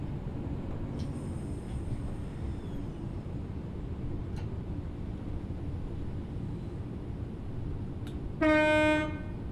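A loud, short blast of the train horn in Train Sim World 3 on the Birmingham Cross City line, sounding near the end over a steady low rumble of the moving train, with no speech.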